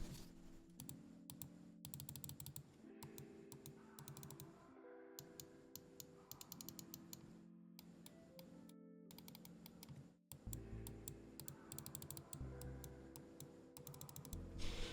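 Close-up crisp clicks from a Lemokey G2 mouse with Huano blue shell pink dot switches come in quick, irregular bursts, some rapid and clustered, with brief pauses between runs.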